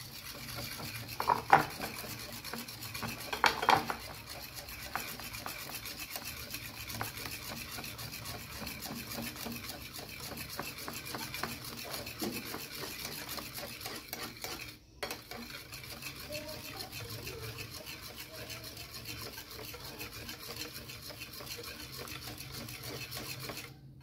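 A batter for crispy eggplant, seasoned with oyster sauce, is stirred in a bowl. The soft scraping and clinking of the utensil against the bowl goes on steadily and faintly, with a few sharper knocks early on.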